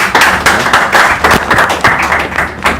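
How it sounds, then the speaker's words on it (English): An audience at an acceleration programme event gives a participant a short burst of applause, with distinct claps ringing out sharply and close over about three seconds. "And a round of applause for him."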